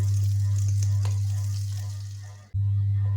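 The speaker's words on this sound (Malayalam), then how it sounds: "അതിലേക്ക് കുറച്ച് ബട്ടർ ഇട്ട് 3 മുട്ട നമുക്ക് അതിലേക്ക് ഒഴിച്ച് ഫ്രൈ ചെയ്തെടുക്കാം." Butter with three eggs frying in a hot pan for a restaurant-style chicken fried rice, giving a steady close sizzle over a low hum that dips briefly near the end, then resumes.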